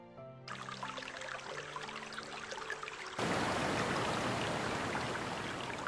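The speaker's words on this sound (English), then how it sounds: "Wait, is that water I hear? Looks like water's coming out." Water streams steadily from a small fountain in Little Witch in the Woods, joining a soft tonal game music bed and then swelling into a loud, constant broadband rush of flowing water for the second half.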